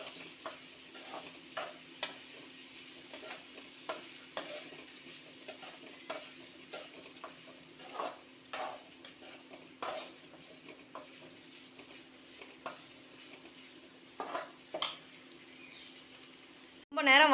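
Green chili and finely chopped ginger sauté in a pan for a village-style dal dosa, giving a steady soft sizzle broken by regular scraping stirs, with a sharper clatter at the very end.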